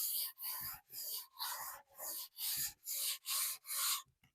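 A fine sanding block rubs over a varnish finish by hand in about nine even back-and-forth strokes, each a close, dry scratchy rasp with short pauses between.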